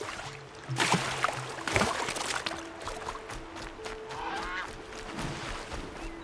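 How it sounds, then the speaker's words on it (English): A goose in the video game Horizon Zero Dawn honks repeatedly over a busy outdoor backdrop, with moderately loud calls scattered across several seconds. "Oh, it's just a goose."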